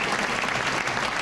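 Audience applause, a dense steady wash of clapping from a large crowd, sustained and even without a break.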